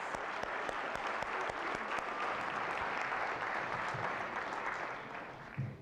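A crowd applauds steadily, with dense, sustained clapping that holds for several seconds and then tapers off slightly at the end.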